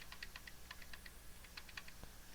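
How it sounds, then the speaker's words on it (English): Computer keyboard keys, including Control, Shift and the arrow keys, are pressed in a run of crisp, close taps, quick clusters with short gaps between them, and no voice. "I can hold Control and Shift and move my arrow keys to the right"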